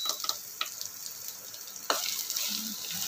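Peanuts, dried red chili and asafoetida sauté in a hot pan with a soft, quiet sizzle, punctuated by a few light clicks and one louder scrape of a spoon partway through.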